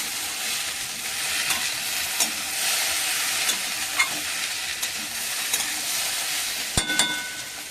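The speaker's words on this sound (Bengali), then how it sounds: "এপাশে কুঁদরিটা ভাজা হচ্ছে এখন।" Ivy gourd fries in a pan with a steady hissing sizzle, occasionally stirred, with a sharp metallic clink near the end.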